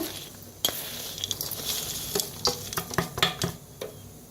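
Semolina sev being tossed with masala by hand in a bowl, close soft rustling and crunchy scraping in irregular bursts with a few sharper clatters, fairly quiet with no talking.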